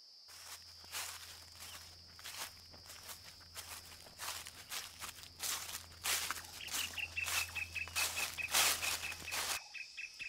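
Soft footsteps pad along inside a quiet game interior while high, thin bird chirps repeat in short bursts over a low steady hum, growing busier toward the end.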